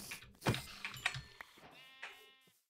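Several sheep bleat in a blocky survival video game, with a cluster of loud, wavering cries up close that is followed by sparser bleats trailing off.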